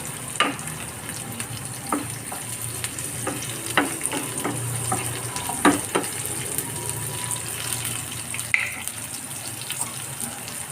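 Onions fry in oil in a pan for cauliflower keema, a steady close sizzle with occasional stirring scrapes and clinks, and nobody talking.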